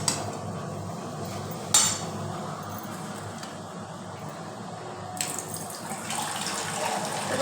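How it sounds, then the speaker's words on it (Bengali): A small amount of water is poured into a cooking pot in a kitchen, a soft trickling wash with a couple of brief clinks of utensils, and a louder splash of pouring toward the end. "এবার অল্প একটু সামান্য একটু জল দেব।"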